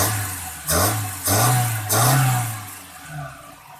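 A boxy Suzuki Karimun car engine with a freshly cleaned carburettor revved by hand at the throttle lever, rising in three or four close, loud surges over a steady idle, with no talk.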